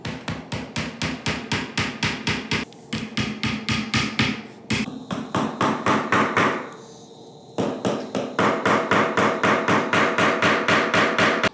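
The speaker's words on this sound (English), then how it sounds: "just gonna hammer this stuff in" Walmart furniture parts are driven together with a hammer in rapid, regular blows, loud and close. The runs pause briefly twice, with one quiet gap near the middle.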